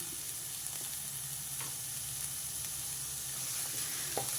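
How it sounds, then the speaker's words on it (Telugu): Onions frying in a pan with salt give a steady, even sizzle and hiss throughout, with a few faint scrapes of stirring and no voices. "ఉల్లిపాయలు వేగడం కోసం కొంచెం ఉప్పు వేసుకున్నా"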